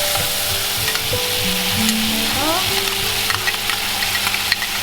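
Cumin seeds crackle and sizzle in hot oil for a pumpkin and prawn stir-fry, a steady close frying hiss with scattered pops and stirring scrapes, no voices.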